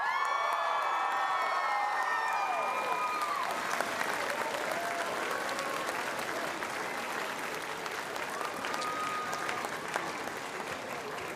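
A large commencement crowd at North Idaho College's 2023 graduation applauds steadily with cheers and whoops rising early on, a dense sustained wash of clapping that continues evenly through to the end.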